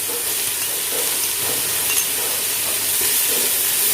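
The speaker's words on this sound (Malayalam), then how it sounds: "എല്ലാം കൂടി നമുക്ക് നന്നായിട്ട് വഴറ്റിയെടുക്കാം." Crushed ginger and about ten crushed green chilies sautéing in a pot for fish biryani give off a loud, even, continuous sizzle and hiss, with faint stirring and no voices.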